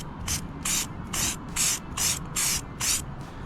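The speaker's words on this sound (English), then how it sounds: "Here goes the first spray." Spray gun hisses in seven short bursts of bed liner coating at an even rhythm, close and loud, with brief quiet gaps between each pass.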